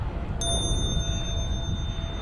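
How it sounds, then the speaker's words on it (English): A bicycle bell rings once, sharp and close, while riding past houses, its bright tone ringing on and fading slowly over steady low wind and road rumble. "ring the bell"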